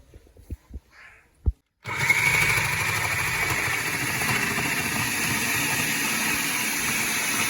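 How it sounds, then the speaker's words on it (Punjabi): Carrots are shredded in an electric grating machine for gajrela. A few light clicks come first, then the motor kicks in with a loud, steady whirring grind that runs on evenly. "ਗਾਜਰਾਂ ਆਪਾਂ ਮਸ਼ੀਨ ਨਾਲ ਕੱਦੂਕਸ਼ ਕਰਨ ਲੱਗੇ ਸੀਗੇ"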